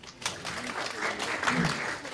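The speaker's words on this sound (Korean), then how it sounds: "박수 한번 보내주십시오" Brief applause from an audience at a Korean startup presentation event, building quickly after a soft start and holding steady with some voices mixed in.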